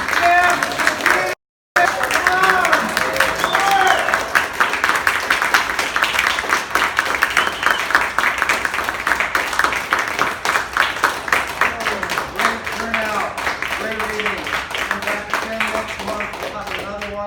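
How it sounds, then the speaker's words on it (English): An audience at a poets' open mic at the Williams Center claps in a sustained round of applause, a dense steady patter with a brief cut early on and voices talking over it as it winds down. "Have a big round of applause for Jim!"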